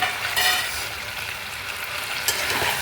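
Fried chicken pieces hit a hot pan of capsicum and onion for chilli chicken, giving a steady, close hissing sizzle that carries on without a break.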